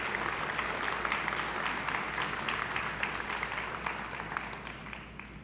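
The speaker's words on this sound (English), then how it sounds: "Can we have a round of applause for all of our new grantees?" Audience applause for new grantees at a West Virginia brownfields and Main Street conference, a steady wash of many hands clapping at moderate distance that holds through and thins slightly near the end.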